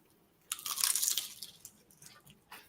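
A bite into a crisp taco shell gives one close crunch that crackles briefly, followed by softer chewing crackles fading out, with no talking.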